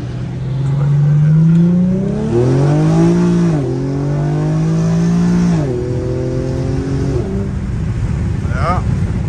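Loud engine of an Infiniti G37 with a muffler delete, close inside the car, rising as it revs and then dropping in steps through downshifts, each drop a quick blip, before settling into a steady drone.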